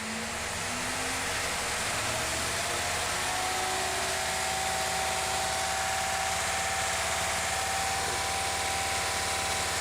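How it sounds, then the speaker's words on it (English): A Ford 302 V8 engine under rebuild runs steadily at raised RPM, a close, continuous mechanical drone with a faint whine sliding upward and then holding, with no talking over it. "Let me bring the RPM up a bit, and we'll see if it should come up some."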